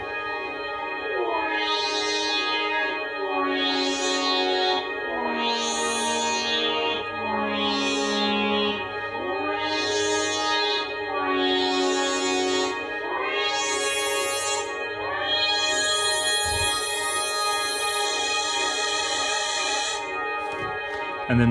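A synthesizer plays sustained tones over a short loop held in an echo unit with feedback turned fully up so it regenerates endlessly, giving layered, shimmering, distorted repeats in a dense continuous wash with no voices.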